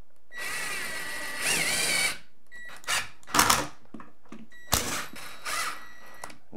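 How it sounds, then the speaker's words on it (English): A power drill drives screws into a door hinge in several whirring bursts, a long first run followed by short, close stop-start pulses. "So I'm just gonna get these screws started before I tighten them all the way."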